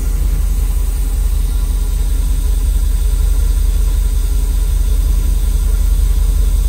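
A 1994 Mercedes SL500 idles steadily with a low, even exhaust rumble and hiss, no revving or change in pitch throughout.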